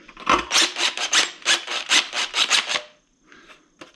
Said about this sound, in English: Get most of the burrs off of